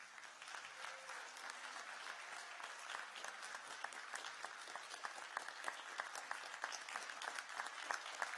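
Steady applause from an audience at a live community event, many hands clapping in a continuous, even patter with a few sharper claps standing out near the end.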